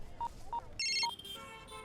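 A phone places a call with a few evenly spaced single beeps, then a short burst of higher, layered keypad-like tones. Quieter tones trail off behind them, and no one speaks.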